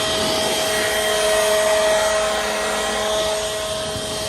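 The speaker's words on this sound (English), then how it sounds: "this blower just gets them right out of there, right out of that gutter" A WORX 32-volt cordless leaf blower clearing leaves out of a house gutter gives a steady, loud, close-up whirring roar with a constant motor whine, running without pause and with no speech.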